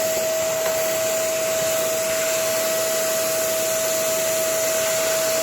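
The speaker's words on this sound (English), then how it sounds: "This is the performance of a vacuum filter that is really dirty." A household vacuum cleaner with a badly clogged, dirty filter runs steadily and alone, a loud constant whoosh of airflow with a strained high whine and no pauses or speech.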